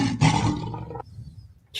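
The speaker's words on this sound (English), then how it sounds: "That lion was fierce." A lion lets out a loud, deep roar that lasts about a second and then cuts off into near silence, with a brief noise at the very end.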